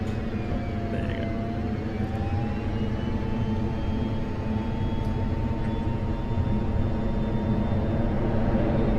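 An F-16 taking off on afterburner in the DCS combat flight simulator: a loud, steady jet roar holds throughout, with a thin engine whine climbing in pitch early on, and no talking.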